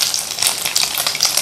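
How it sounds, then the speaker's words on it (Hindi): Bread rolls dipped in an egg batter seasoned with black pepper and salt fry in hot oil, giving a dense, steady close-up hiss and crackle with no voices. "उसमें ये जो है रोल हमने ऐसा डिप करके फ्राई कर लेना है"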